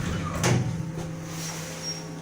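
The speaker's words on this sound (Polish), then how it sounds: "Drzwi się zamykają." An elevator's doors slide shut inside a car modernized in 2019, a single soft thump and rattle near the start over a steady low hum of the machinery, with no voices.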